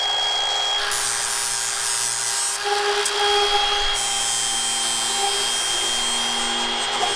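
A loud power tool whines steadily while rounding the edge of a metal part, its pitch dipping briefly under load partway through, close and continuous with no talking.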